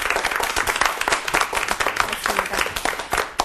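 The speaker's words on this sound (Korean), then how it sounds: "큰 박수로 맞아주시기 바랍니다." An audience claps to welcome an emeritus professor taking the stage for a leadership lecture, with brisk, continuous applause at an even level and individual claps standing out throughout.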